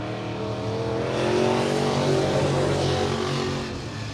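A late model race car roars into turns one and two at Willamette Speedway, a loud sustained engine drone that swells and then eases, with no voices.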